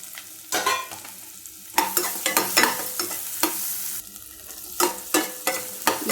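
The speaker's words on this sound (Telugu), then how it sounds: "కొంచెం ఇందులో సన్నగా కట్ చేసిన ఉల్లిపాయ ముక్కలు కూడా యాడ్ చేసేసుకోవాలి" Thinly sliced onions fry in oil with turmeric for a bitter gourd stir-fry, with a constant hiss under repeated spatula scrapes and knocks against the pan at a moderate volume, with no voices.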